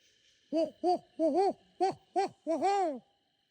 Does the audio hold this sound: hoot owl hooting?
yes